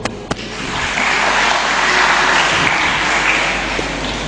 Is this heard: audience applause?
yes